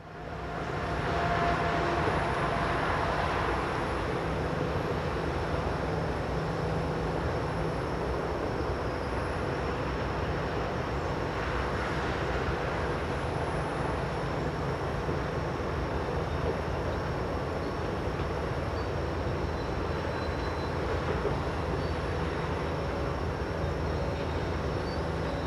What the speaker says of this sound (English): the wagons are dragged into the unloading sidings by this modified bucket loader